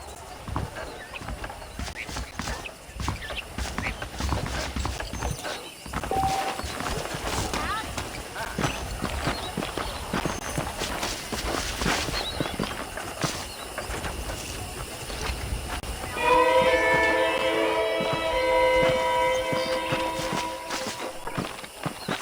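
Saddled horses in Red Dead Redemption clip-clop steadily at a walk on a ranch, hooves tapping in an even rhythm under ongoing conversation, with a brief whinny and a burst of bird chirping near the end.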